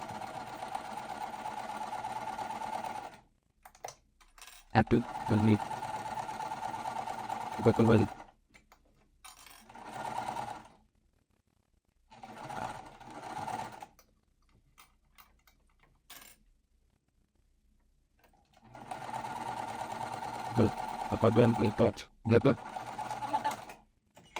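A sewing machine stitches quilt fabric in several bursts separated by pauses, the motor's steady whir rising and stopping, with talk in between some runs.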